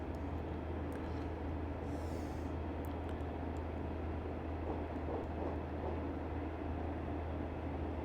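A Class 143 diesel train runs between Barnstaple and Exeter, heard from inside as a steady, loud low rumble and drone with faint rattles over the whole stretch.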